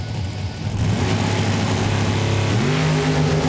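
Corvette drag racing at a street call-out event, a loud close engine roaring and revving hard as it launches, pitch climbing steadily through the run.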